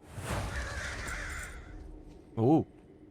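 A bird caws once near the end, a short harsh call heard during World of Warcraft gameplay, after a stretch of soft rustling ambience and faint voice.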